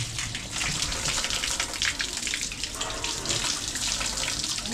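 Water runs steadily from a tap or fountain outdoors on a hot day in Montenegro, a continuous close rushing gush with no talk over it.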